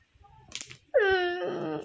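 A puppy lets out a short, high whimpering yip, a clear whine lasting under a second after some soft scuffling noises.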